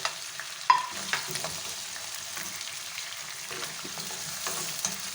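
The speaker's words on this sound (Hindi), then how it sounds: "और साथ ही इसके अंदर हम टमाटर भी डाल देंगे।" Biryani masala sautéing with tomatoes in a pan, a steady close sizzle with scraping stirs and occasional clinks, no voices.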